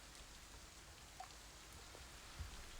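Steady rain ambience plays as background for a tabletop dungeon game, a soft, even hiss of falling rain with a few faint drop taps, no voices present.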